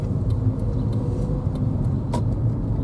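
A car rolls along a village street, its steady low rumble close and continuous throughout, with faint ticks and clatter from the street in the background.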